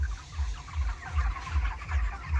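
Chickens on a village poultry farm cluck busily while rushing to their feed, close and steady, over a rhythmic series of low thuds.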